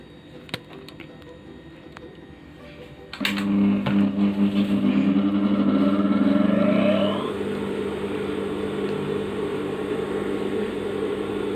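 A sewing machine stitching a shirt sleeve cuff, quiet at first, then a close, steady whirring run of several seconds that eases into a lower hum.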